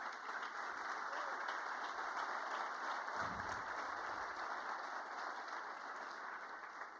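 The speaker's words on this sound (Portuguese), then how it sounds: "Você pode aplaudir o Senhor por isso?" A church congregation applauds in praise, a broad, steady wash of clapping that fills the room at moderate distance, with a low murmur of voices briefly rising beneath it midway.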